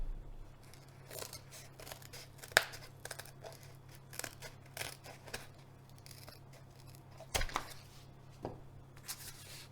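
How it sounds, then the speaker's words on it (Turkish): Scissors snip through fence-shaped corrugated box cardboard in a series of short, crisp cuts with brief pauses between, close and moderately loud, with a steady low hum underneath. "çizdiğim çit şeklindeki kartonumu kesiyorum"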